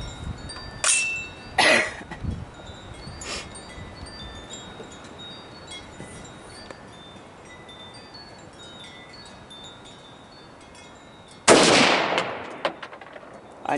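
Gunshots fired at a steel brake rotor, with a few sharp cracks early on, a long stretch of wind-buffeted quiet, then one loud blast near the end. The shots are close and ring out alone, with no talk.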